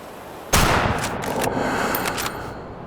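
A single rifle shot fired at a Dall sheep in a hunting video game, a sharp close crack followed by a long rolling echo that fades over a couple of seconds.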